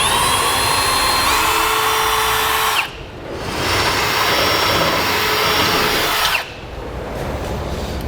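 Power drill boring holes in the frame of a 2002 Dodge Ram pickup for a fifth-wheel hitch, a loud sustained grinding whir in two long bursts with a brief pause between.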